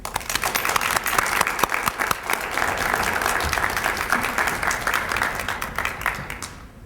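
An auditorium audience at a Women's Week 2011 university keynote applauds Ruth O'Brien, steady loud clapping from many hands that holds for several seconds and then fades out at the end.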